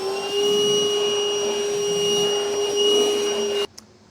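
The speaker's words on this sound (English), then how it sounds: "I'll now use a vacuum and get all this mess cleaned up." A vacuum cleaner sucks up metal filings and debris left from sawing and filing a truck bed during a B&W Turnoverball underbed gooseneck hitch install on a 2021 Chevrolet Silverado, a loud steady whine running about 3.6 seconds before cutting off abruptly.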